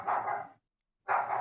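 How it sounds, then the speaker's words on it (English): Two bursts of dog barking with a short silent gap between them, fairly loud and close, each burst a rough, sustained bark. "Oh, loud ass motherfucking barking dogs"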